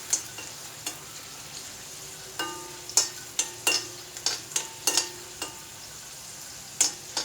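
Garlic sautéing in a pan for a chutney, a soft background sizzle broken by a series of crisp spatula taps and scrapes at an irregular pace, close by, no talking.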